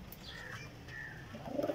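Teddy pigeons cooing faintly in a loft, soft low murmuring calls over a quiet background with a slightly louder burst at the end.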